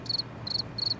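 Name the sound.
crickets chirping sound effect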